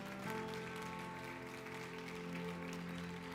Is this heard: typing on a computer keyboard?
no